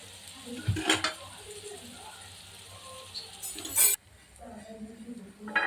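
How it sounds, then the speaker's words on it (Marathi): Dried shrimp (sukat) roasting in a pan with occasional clinks and scrapes of stirring, a sharper burst of scraping near the end, and faint background hum; no voices. "सुकट चांगली भाजून घ्यायची लाल होईपर्यंत"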